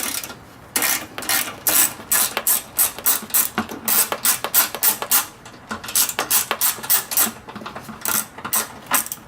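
A ratchet clicks in rapid bursts while loosening the air inlet on a Ford Mustang 4.6, the sharp pawl ticks coming in close, rhythmic runs separated by short pauses.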